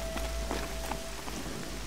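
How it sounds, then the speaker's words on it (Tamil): Rain falls in Horizon Zero Dawn as a steady close patter of drops on surfaces, with a low rumble underneath and no speech. "ஆ, மழை பெய்யுது."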